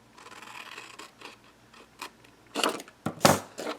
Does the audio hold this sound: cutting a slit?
yes